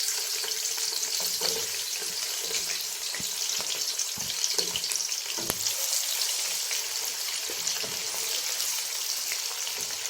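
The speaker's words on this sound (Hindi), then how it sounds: "अब मैंने सबसे पहले इसमें प्याज को थोड़ा सा फ्राई करना है।" Onions fry in a cup of oil in a kadhai for fish salan, a steady, even hiss of sizzling with faint occasional ticks of stirring and no speech.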